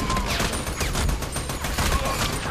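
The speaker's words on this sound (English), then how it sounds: "guys are shooting. I just shot all my guys." Gunfire in the video game Army of Two, a dense, steady crackle of rapid shots packed together for a couple of seconds, loud and close.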